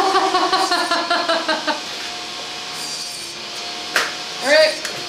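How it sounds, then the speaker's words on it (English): A hand saw cuts 3/4 inch square wooden spacer strips into 3 inch lengths for a bat house, with quick rhythmic strokes for under two seconds, then quiet with a couple of light knocks and scrapes. "I'm going to cut the spacers, so that way the bats have enough space to crawl up and down"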